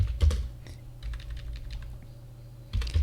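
Amounts being typed on a computer keyboard: scattered clicky keystrokes in short irregular runs, with a few heavier thumps at the start and end, close by with no talk.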